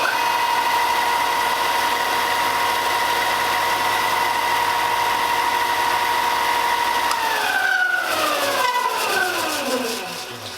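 Repaired stationary belt sander motor running with a steady, even mechanical whine, then winding down as it is switched off near the end.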